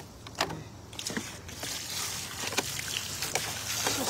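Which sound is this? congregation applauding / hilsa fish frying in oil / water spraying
water spraying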